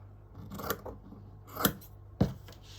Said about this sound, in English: Just pop it over and trim excess again.